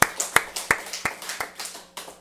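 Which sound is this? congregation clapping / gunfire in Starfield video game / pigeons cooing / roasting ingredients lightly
congregation clapping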